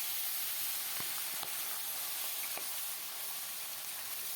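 Taki fish fry in hot oil in a kadai, giving a steady loud sizzle with a few soft pops and spatters.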